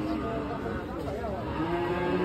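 A cow moos at a busy livestock market where animals are being bargained over, its low call set against crowd chatter and general bustle.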